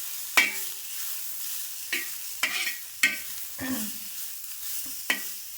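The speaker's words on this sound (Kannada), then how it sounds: "ಈಗ ಇವ ಚೌಳಿಕಾಯಿ ಚಂದ ಕಣ್ಣು ಬೀಳೋ ಹಂಗೆ ಹುರಿಬೇಕು ರೀ" Cluster beans (chowlikayi) fry in a pan for a palya and are stirred in about six separate strokes, each a sharp scrape and burst of sizzle that fades between turns.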